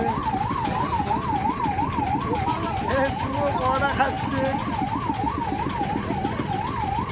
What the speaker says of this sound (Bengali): আমাদের অ্যাম্বুলেন্স যাচ্ছে